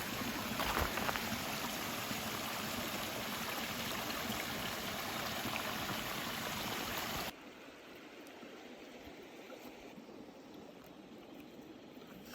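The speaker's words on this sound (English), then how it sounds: "Little brook right beside the portage here." A small brook beside a rocky portage trail in Algonquin Park gives a dense, continuous rush of flowing water that is loud at first, then suddenly drops to a quieter, softer murmur.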